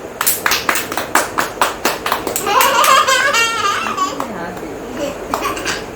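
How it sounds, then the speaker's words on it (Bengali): Family members clap together at a mother's birthday cake-cutting, a run of sharp, close claps in a steady rhythm, with laughter and excited voices rising over them and then fading. "হাতে তালি দাও সবাই"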